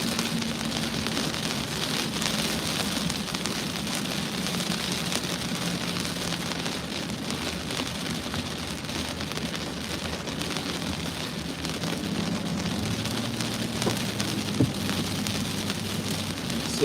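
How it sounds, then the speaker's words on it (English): Torrential rain pours down in Ohio, a heavy continuous hiss of drops drumming on surfaces close by, with a faint low rumble underneath and no voices. "it's like a torrential downpour right now"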